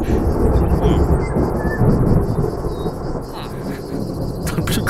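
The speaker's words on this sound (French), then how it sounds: "La foudre." Minecraft thunderstorm weather, a loud, sustained rumble of thunder under steady rain noise, continuous across the whole stretch with no talking.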